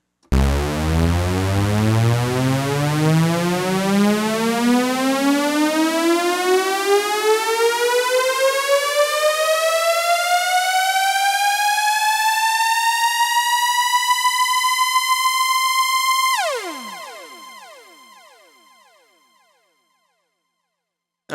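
A synthesized riser sound effect patch with delay sweeps steadily upward in pitch for about sixteen seconds, loud and alone, then cuts off into falling delay echoes that fade away.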